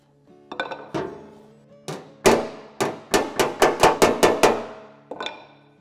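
A hammer taps out a dent in a metal panel. About a dozen sharp, ringing knocks come close and clear, spaced out at first, then a quicker run of even taps, then one last strike.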